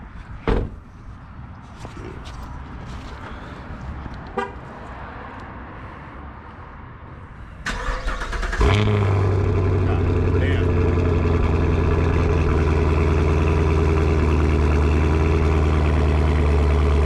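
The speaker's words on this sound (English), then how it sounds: "let me just try and get a cold start for you guys." A 1989 Chevrolet Camaro Z28 is cold-started after a door thunk and some handling noises: the starter cranks briefly, then the engine catches and settles into a loud, steady, deep idle close to the mic.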